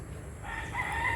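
A rooster crowing nearby amid other birds, a rising drawn-out call over a low steady background rumble.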